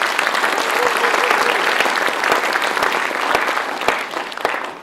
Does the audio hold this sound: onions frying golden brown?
no